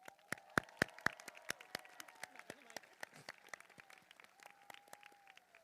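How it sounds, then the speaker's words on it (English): Scattered, sparse clapping from a graduation audience at a technical high school commencement, with a few sharp close claps standing out over thinner, distant applause and faint background voices. "So let's give everyone a round of applause."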